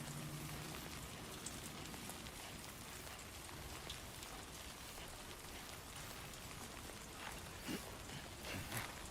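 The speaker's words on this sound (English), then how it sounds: "Get out of the rain." Steady rain pours down in a dense, even hiss of drops in the video game Death Stranding 2: On the Beach, continuous and unbroken throughout, with no voices.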